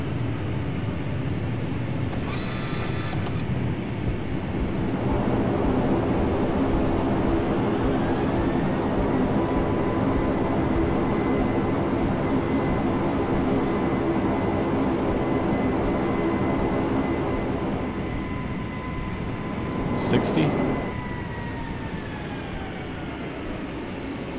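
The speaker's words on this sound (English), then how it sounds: "we will be taxiing for the next few minutes, so please remain seated with your seatbelt fastened" QualityWings 757-200 airliner in a flight simulator game taxiing after landing, a steady loud jet engine rumble with a tonal whine, a brief higher burst early and a short clattering spike near the end, no talking.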